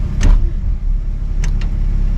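A 1955 Chevy engine idling a little high while still in gear, a steady loud low rumble throughout with a couple of brief higher clunks, no voices.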